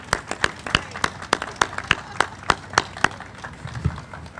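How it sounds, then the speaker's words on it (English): Applause for Maureen at a public mural dedication event in Lackawanna County: crisp, separate handclaps in a steady, fairly even rhythm, sounding like only a few people clapping nearby. "I just want to give Maureen another round of applause."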